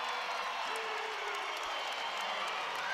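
A college wrestling arena crowd at a Big 12 heavyweight match cheers and claps in a steady, distant roar of applause with scattered whoops.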